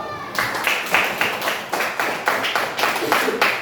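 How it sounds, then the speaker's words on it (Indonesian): A fifth-grade class at an elementary school claps together for a student group, a quick steady run of hand claps in rhythmic bursts, close and moderately loud, with some voices underneath. "Langsung tepuk tangan dulu untuk kelompok 2"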